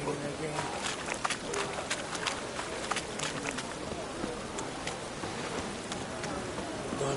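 Steady rain patters across an outdoor scene in The Witcher 3, a dense, even hiss of drops holding at the same level throughout, with a few brighter taps over the wash and no voices.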